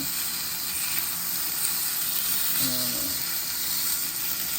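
Pomfret fish frying in a pan with a little oil makes a steady, continuous sizzling hiss that holds at an even level throughout, close to the pan.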